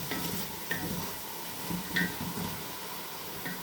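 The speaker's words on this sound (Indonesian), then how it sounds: "Terus ini bawang merah yang saya goreng-goreng sahabat ya" Shallots fry in a pot with a steady close sizzle, broken by occasional scraping clinks of a utensil stirring against the metal, and no talking.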